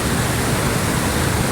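A waterfall in a mountain creek pouring into a pool below, a loud, dense, unbroken rush of falling water close by, no voices.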